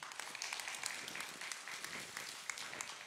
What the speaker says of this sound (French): Viens, on l'applaudit.